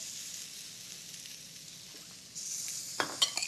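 Olive oil being stirred into a fresh cilantro salsa in a bowl, a faint soft scraping and swishing, then a few clearer clinks and scrapes of the utensil near the end, with no voices.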